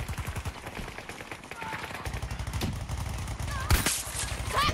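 Rapid automatic gunfire rattles in the Battlefield video game, dense bursts of repeated shots with a louder crack near the end, continuous and fairly close throughout.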